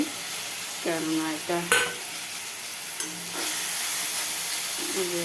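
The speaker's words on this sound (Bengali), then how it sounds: "এই দেখো ডিমের কারিটাকে এই যে বন্ধুরা এই দেখো কষিয়ে নিচ্ছি" Egg curry sizzles and hisses softly as it is stir-fried in a pan, with quiet scraping strokes of a utensil and a faint voice speaking now and then.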